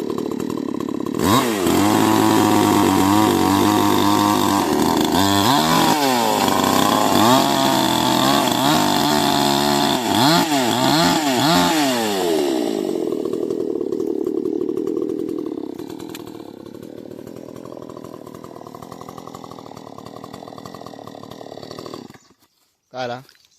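A chainsaw cuts a big tree in the open, its loud engine revving and bogging through the wood for about fifteen seconds before dropping to a softer idle, with people talking nearby.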